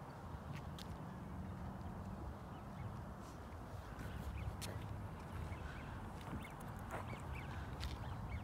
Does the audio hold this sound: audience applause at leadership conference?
no